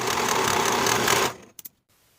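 A sewing machine finishes the raw edges of a plaid wool jacket piece with a dense, fast whirring run that stops abruptly, followed by two quick mechanical clicks.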